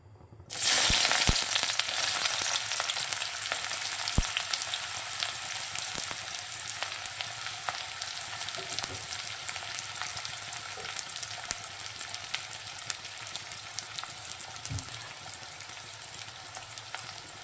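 Chopped onions hit hot oil with a sudden burst of crackling, then settle into a continuous close sizzle that stays strong with occasional small pops and clicks.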